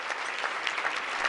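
Dense clapping and cheering from friends, family and students in the audience at an inspiration award ceremony, a steady wash of applause sustained through the short moment.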